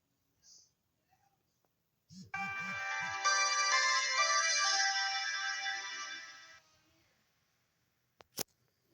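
A Kyocera DuraXTP rugged flip phone on Sprint plays its startup tone, a bright sustained melodic chime of about four seconds, clear and close, preceded by a few soft clicks and button beeps.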